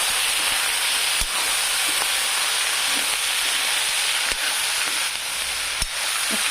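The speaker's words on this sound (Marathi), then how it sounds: "मस्तपैकी भाज्या फ्राय होऊ द्यायच्या" Mixed vegetables frying in a pan for veg pulao biryani, a steady dense sizzle filling the whole stretch, broken by a few sharp clicks of a spoon against the pan.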